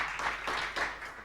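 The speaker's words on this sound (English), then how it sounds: "Another round of applause to Tsitsi." Brief applause from the audience at a project management conference, a dense, moderately loud patter of clapping lasting just over a second.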